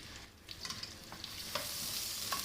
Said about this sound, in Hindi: इसमें मैं प्याज डाल रही हूँ, प्याज को हम ब्राउन करेंगे